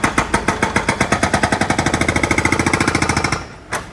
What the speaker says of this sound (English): So they're just cutting the curb to make way for where the new curb is going to be.